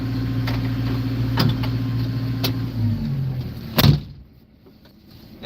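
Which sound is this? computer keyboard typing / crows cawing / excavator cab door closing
excavator cab door closing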